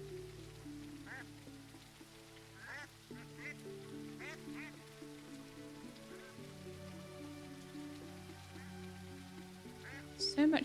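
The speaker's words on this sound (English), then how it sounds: "So there's some like kind of duck guys down here." Duck-like creatures in the fantasy shop game Teddy's Haven give scattered short quacks at irregular intervals over a soft, steady background of game music and patter.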